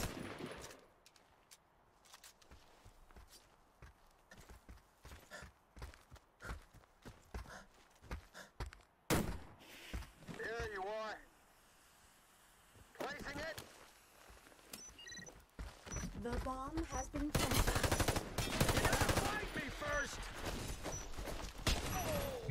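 Gunfire in the online shooter Warface, with sharp scattered shots and short bursts spread across the match, sometimes sparse and sometimes in dense rapid runs, mixed with people talking over the game.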